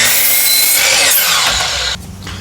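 A wooden board being cut to eight inches with a saw, a loud close rasping cut that runs for about two seconds and then drops away.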